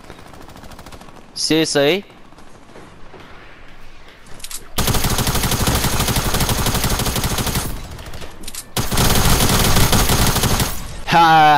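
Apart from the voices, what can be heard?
Tac SMG gunfire in a video game (Fortnite)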